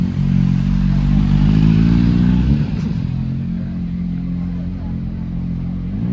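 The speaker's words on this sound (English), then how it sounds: "Some people there on motorbikes with strange helmets." Motorbike engines roar close by and then fade as they pass along a street in Podgorze, Krakow, with a voice talking over the noise.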